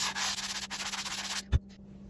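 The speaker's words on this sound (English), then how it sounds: "I'm using a 220 grit block here." A 220-grit sanding block rubs back and forth over wood in quick rhythmic strokes, close and steady, ending with a single soft knock.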